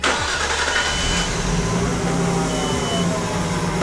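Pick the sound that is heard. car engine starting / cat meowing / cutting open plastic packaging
car engine starting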